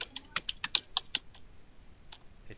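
Computer keyboard typing: a quick run of sharp, distinct key taps in the first second and a half, then a lone tap near the end, close and fairly quiet with no talking.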